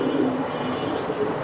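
A hammer pigeon coos close by, a low steady murmuring call held for about a second and a half with no talk over it.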